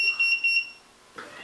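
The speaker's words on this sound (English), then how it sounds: "Sorry, my multimeter's bitching at me." A multimeter on an electronics workbench gives three quick, shrill beeps in a row, close and loud, followed by a pause and then a soft rustle.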